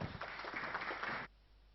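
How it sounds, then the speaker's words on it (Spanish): A short burst of audience clapping at a Spanish-language forum, dense and even, that cuts off abruptly into quiet room tone. "Los recibimos con un fuerte aplauso."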